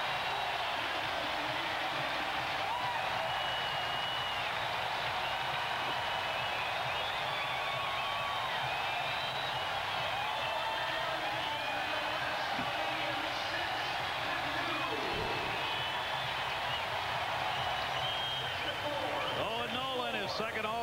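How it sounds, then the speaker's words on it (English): A home arena crowd at the 1997 NHL All-Star Skills Competition roars in a steady, loud wash throughout, with a commentator talking over it. "Star appearance excites the home crowd"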